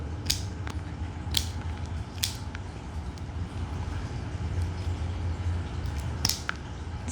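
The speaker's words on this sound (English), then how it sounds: "It's so satisfying to cut long nails though." Nail clippers cutting the long nails of a Shih Tzu during grooming: a handful of sharp, close clicks spaced irregularly over a soft background hum, with no talking.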